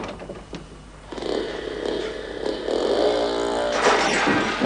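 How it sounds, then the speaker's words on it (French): A motorcycle engine revs up and climbs in pitch, rough and mechanical, growing louder over a few seconds in a domestic sitcom scene. "Si tu veux monter derrière, je ferai rugir le moteur."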